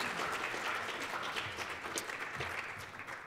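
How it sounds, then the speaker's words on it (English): Audience applause for a panel at a meeting, a steady dense wash of clapping throughout, fairly close and even in level. "round of applause for our panel."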